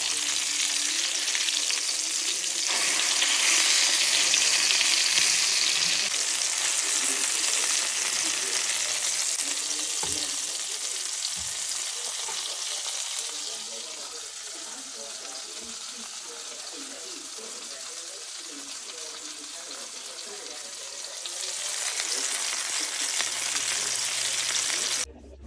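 Flour-coated chicken sizzles steadily in oil and butter in a pan, a loud, dense hiss that carries on without a break and thins slightly partway through, with soft kitchen clatter beneath.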